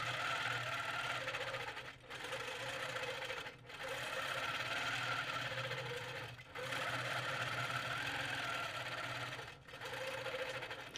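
Domestic sewing machine stitching free-motion feathers on a blues quilt, a steady fast whirring hum running in long continuous bursts, with three brief pauses where the needle stops before restarting.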